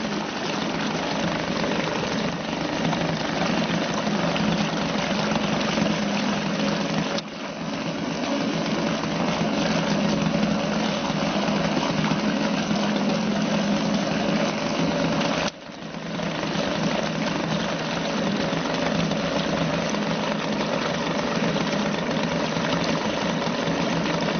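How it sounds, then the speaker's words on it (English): A small Suzuki DT2 outboard engine idles steadily, a continuous buzzing drone with a slight knocking rhythm that holds for the whole stretch, briefly dipping twice. "On tick over like that, it will run for about 4 minutes"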